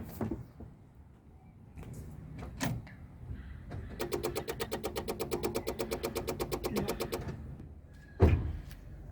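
A car with a discharged battery turning over weakly, the starter cranking in a fast, even run of pulses for about three seconds, with a door-like thump and a short loud knock near the end.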